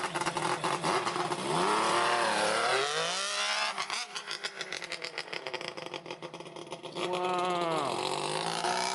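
A Kawasaki KV triple motorcycle engine revs hard and pulls away down the road, its rasping note rising and falling through gear changes, then surging again near the end.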